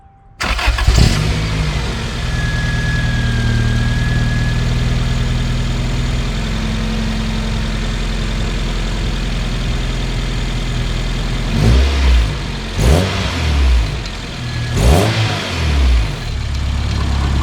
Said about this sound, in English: let's go turn on the engine, make sure it runs nice and smooth